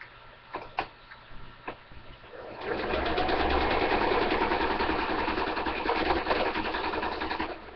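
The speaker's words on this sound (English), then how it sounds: "I'm going to sew it shut." A sewing machine stitching a catnip log shut: a few light clicks, then a steady, loud mechanical whir that runs continuously for several seconds, close up and without speech.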